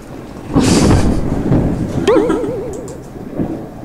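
At a summer campsite, a sudden crash of thunder with low rumbling, followed by a wavering, whinny-like cry that fades out.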